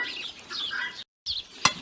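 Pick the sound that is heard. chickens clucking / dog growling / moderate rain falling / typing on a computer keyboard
chickens clucking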